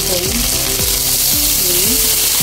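Water spinach dropped into a hot pan with shrimp paste sizzles loudly and continuously up close, with repeated rhythmic scraping strokes of stirring throughout.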